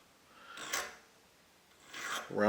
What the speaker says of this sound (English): here we go with the locking lug file again, and I've just got this in, you know, in the vise